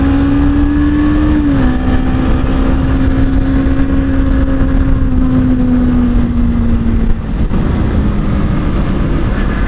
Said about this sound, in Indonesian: Karena ini motor sumpah kenceng banget.